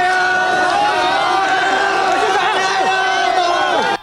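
Dense crowd of supporters packed into a night market on a road in Chiayi, Taiwan, excited and cheering continuously at a political rally appearance, loud and close with overlapping voices and whoops throughout.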